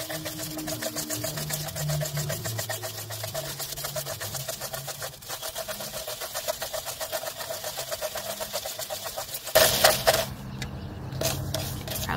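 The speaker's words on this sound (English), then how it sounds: "I'm just gonna start with a blue chalk, and I'm just gonna stir the salt" Blue chalk stirred through a bowl of salt makes a steady, fast, gritty scraping rasp that runs continuously at close range, with a louder scratchy burst near the end.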